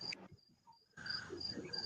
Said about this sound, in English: You got the crickets.